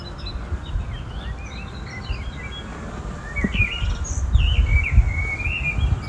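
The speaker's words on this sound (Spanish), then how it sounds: "el sonido del mirlo, el canto aflautado del mirlo, de los pequeños verderones, de jilgueros" Blackbird, greenfinches and goldfinches sing outdoors, a blackbird's fluted phrases weaving among quick twittering finch calls over a low rumbling background, growing somewhat busier in the second half.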